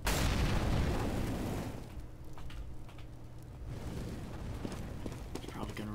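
A burst and whoosh of fire from an incendiary grenade in the Counter-Strike: Global Offensive competitive match, loud at the start and then settling into a steady crackling roar of flames with soft game noise.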